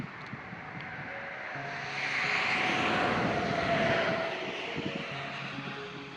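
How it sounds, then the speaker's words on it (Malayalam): Small propeller airplane passing overhead in the Czech Republic, its engine drone swelling from faint to moderately loud in the middle and then fading away, with no talking. "ഒരു ഫ്ലൈറ്റ് അതങ്ങനെ പോകുന്ന ചെറിയ ഫ്ലൈറ്റ്"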